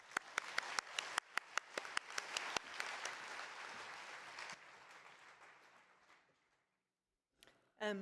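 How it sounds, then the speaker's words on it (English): A conference audience applauds after a keynote, starting with a few sharp individual claps that build into dense, sustained clapping, then fades out before a brief noise at the end. "please give Dr. Shin another round of applause"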